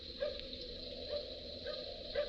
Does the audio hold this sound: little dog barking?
yes